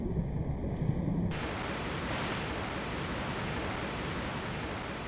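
A Tomb Raider waterfall roars as a steady, dense wash of falling water, loud and unbroken, in a mine setting from Natla's Mines.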